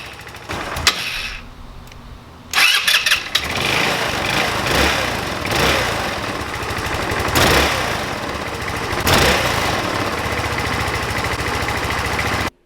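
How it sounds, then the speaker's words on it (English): A cheap Chinese scooter engine is cranked over with a fresh battery, then catches and runs, settling into a steady, fairly loud buzzing idle with a few revs, close to the listener. "then it was time to give the sucker a crank to see if it started"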